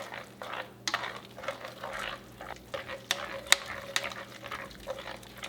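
Eggs being stirred into a pantry-challenge mixture in a bowl, giving soft wet scraping with irregular light clicks of the utensil against the side, close and quiet, with no talk.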